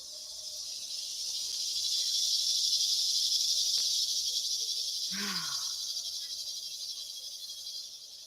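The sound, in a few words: cicadas buzzing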